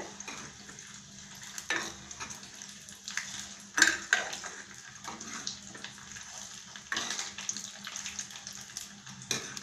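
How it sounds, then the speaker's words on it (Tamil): Toor dal roasts in a pan for Iyengar vathakuzhambu, heard as a soft dry rustle under intermittent scraping and clinking of a spoon against metal as it is stirred, quiet and close. "துவரம்பருப்பு வறுபட்டுண்டே இருக்கும்போது"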